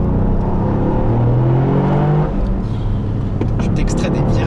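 The Toyota GR Yaris engine roars loudly and continuously from inside the car as it accelerates hard on a track, with a brief dip in pitch around a gear change before climbing again, and a voice faintly present beneath the engine.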